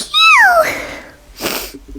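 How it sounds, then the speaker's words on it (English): A person sneezes once, an abrupt gasping rise followed by a sharp burst of air, with a brief rustle after. "Oh no, I'm gonna sneeze."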